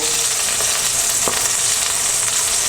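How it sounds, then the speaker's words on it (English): Burger bun halves toasting in an olive-oiled pan, making a loud, even, close frying hiss with one brief scrape partway through and no speech. "I like to toast both sides of the bun"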